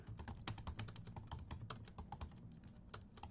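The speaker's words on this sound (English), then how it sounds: "I can type in something" Rapid typing on a computer keyboard, dense irregular clicks of keys pressed close to the mic at a steady pace with no voices.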